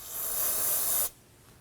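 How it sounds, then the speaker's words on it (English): A steady hiss of aerosol brake parts cleaner sprayed onto a rag lasting about a second, then cutting off abruptly to quiet room tone. "So go ahead and spray some onto the rag."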